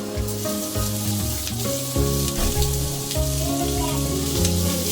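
Minced meat frying in a hot pan, giving a steady, loud, close sizzle with occasional stirring scrapes throughout and no talking.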